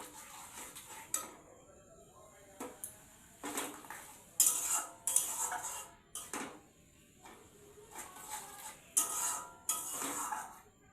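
A metal spoon stirs and scrapes thick egg curry masala with yogurt in a pan, giving irregular clinks and scraping bursts, fairly close but quiet, with short gaps between strokes and no talk.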